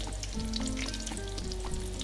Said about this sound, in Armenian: ապա կարող ենք արդեն դդմիկները վերցնել և տապակել հաջորդ շարքը